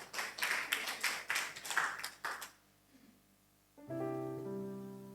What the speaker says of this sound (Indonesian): tepuk tangan saudara ya